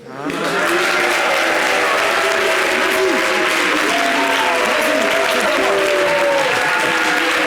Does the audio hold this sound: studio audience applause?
yes